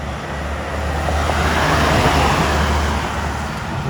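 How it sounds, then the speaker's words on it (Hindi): A police car passes in city traffic on a Pattaya road, its engine and tyre roar swelling and fading over a steady wash of roadway noise, with no siren and no voices. "वो पुलिस का गाड़ी है।"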